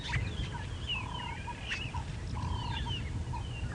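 Lilac-breasted roller calling on a live safari drive, a series of harsh, rasping bursts and short crackling notes repeated in two rough phrases over faint outdoor background.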